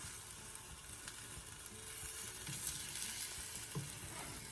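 Quiet, steady sizzle of a crispy Vietnamese banh xeo savory crepe frying in a covered pan, continuous crackling hiss with faint pops and no voices.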